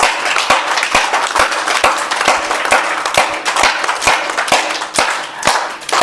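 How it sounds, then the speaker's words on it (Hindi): Young children clap together during a kids' yoga class, loud sharp hand claps in a quick, slightly uneven rhythm, close and continuous for several seconds without speech. "तो जोर से ताली बजाएंगे सारे बच्चे।"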